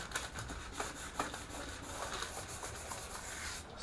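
Sandpaper rubs by hand across a painted car cowl insert, quick repeated scratchy strokes in an even back-and-forth rhythm, close and fairly quiet.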